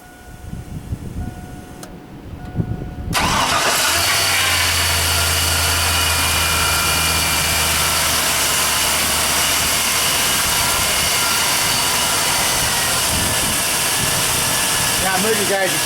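A 1999 GMC 1500 4x4 SLE pickup truck engine cranks and catches after a quiet start, then settles into a steady, loud idle that runs on without letup. A person speaks briefly near the start.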